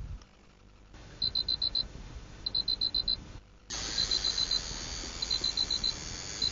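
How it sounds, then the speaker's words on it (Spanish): Fish finder sonar on a catfish fishing outing emits repeated bursts of short, high electronic beeps in regular groups, fairly clear over a steady background hiss, with no talking. "El fino sonido de la sonda confirma que el siluro se encuentra en nuestra zona"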